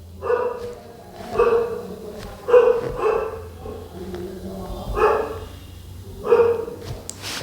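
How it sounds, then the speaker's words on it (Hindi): A dog barks outside in spaced single woofs and short doubles, muffled and moderately distant, over faint room noise. "और ये बाहर कुत्ता इतना भौंक रहा है ना"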